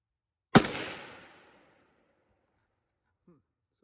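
A single loud, close gunshot from a Riley Defense AK-47 rifle cracks out and its echo decays over about a second, followed by quiet and a faint brief voice.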